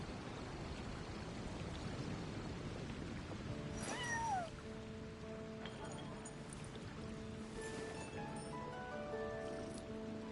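A cat meows twice in a video game, short rising calls over a quiet ambient soundscape with faint background tones.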